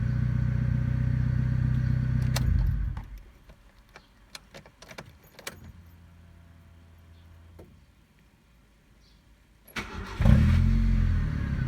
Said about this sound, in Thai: ก็ติดง่ายนะครับตอนนี้นะครับ หลังจากการ ซ่อมไดสตาร์ทนะครับ